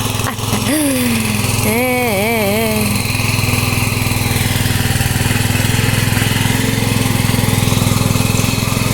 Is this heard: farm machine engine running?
yes